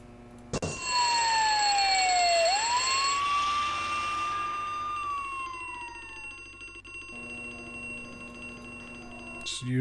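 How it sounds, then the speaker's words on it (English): In the video game Harvester, a fire alarm rings: a bright bell-like clang with a sliding, siren-like wail swells loudly, fades over several seconds, and ends with a sharp click. "Use the fire alarm."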